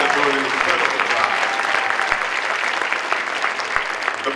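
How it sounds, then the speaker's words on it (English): A large audience at a Martin Luther King celebration applauds the MCs, producing sustained, dense clapping that stays loud and even for several seconds and eases slightly toward the end. "join me in giving our MCs a round of applause"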